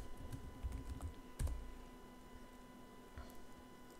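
Keys tapped on a computer keyboard while a password is entered at a Windows Server 2019 login, a few quiet scattered clicks with a louder cluster partway through over steady room hum.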